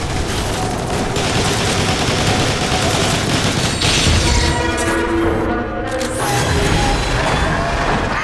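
Dense gunfire and blasts fill a scene in the video game Transformers War for Cybertron, loud continuous bursts and booms with mechanical clatter and a brief sharp shatter.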